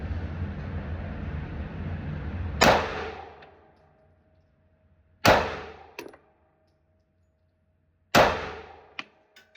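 Three sharp, loud gunshots from a .380 pistol ring out at an outdoor shooting range, each spaced a few seconds apart and followed by a brief decaying echo and a small metallic clink.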